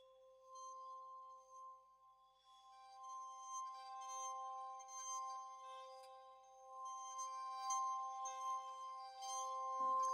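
Soft, sustained pitched chime tones ring steadily, joined by a shimmering cloud of delicate glassy tinkles that thicken over time, quiet and close.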